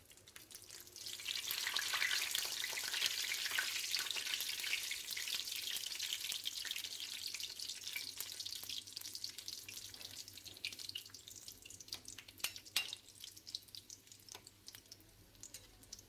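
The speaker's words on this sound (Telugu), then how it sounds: "ఆయిల్ బాగా లోనికి వెళ్ళి డీప్ ఫ్రై అవుతాయి నగెట్స్." Chicken nuggets deep frying in hot oil over a low flame, giving a loud, steady hiss and bubbling that swells early and then holds with a few crackles and pops, with no voices.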